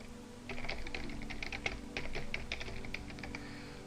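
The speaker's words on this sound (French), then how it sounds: "il est tout à fait possible de le taper manuellement" Quick bursts of keystrokes on a computer keyboard, light and close, with uneven clusters of taps over a faint room hum and no voices.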